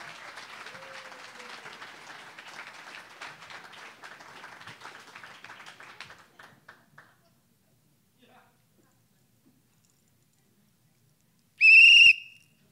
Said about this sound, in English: This is not a rape whistle.